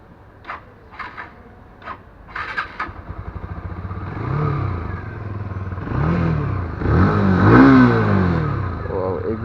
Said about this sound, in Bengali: এক্সস্ট সাউন্ডটা অনেক জোস হয়েছে